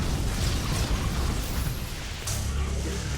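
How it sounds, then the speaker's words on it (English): A short-range grenade fired as a weapon's alternate fire in the video game Sanctum gives a dense, rumbling burst of explosion noise, with a second blast hitting about two seconds in. "Its alt fire is a short, very short range grenade."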